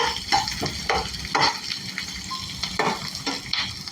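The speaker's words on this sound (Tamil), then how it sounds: "போட்டு வதக்கும் போதே இந்த வெங்காயம் எல்லாம் தனித்தனியாக பாதி ஆகிடும்" Sliced onions sauté in a pan for chicken devil, a close sizzle broken by repeated scraping stirs of a spoon against the pan at an uneven rhythm, no talking.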